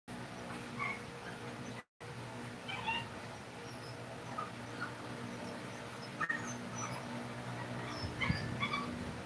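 A pet dog whimpers and yips in short, scattered bursts at a moderate distance, over a steady background hum, with no talking over it.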